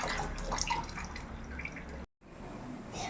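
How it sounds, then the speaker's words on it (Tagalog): Water is poured onto rice in a kaldero, a traditional cooking pot, making a steady close splashing and trickling with drip-like spatter, briefly cut off before resuming. "lagyan na po natin ng tamang sukat ng tubig ang bigas"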